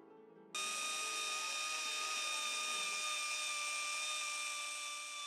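Loud, steady high-pitched whine of a power tool carving marble, starting abruptly after a brief quieter lead-in and holding constant for several seconds with strong vibration and buzzing overtones.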